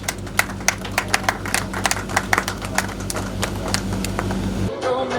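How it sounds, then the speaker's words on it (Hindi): Crowd clapping at an award ceremony in a resort hall in Vrindavan, sharp claps popping steadily over a humming background for most of the stretch, then cutting off near the end. "एक बार जोरदार तालियों से स्वागत करें प्लीज।"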